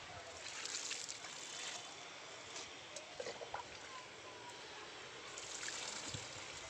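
Water poured steadily onto soil in a freshly repotted cherry plant pot in a rooftop garden: a faint, continuous trickling wash that runs unbroken with no talking.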